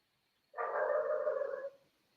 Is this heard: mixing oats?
no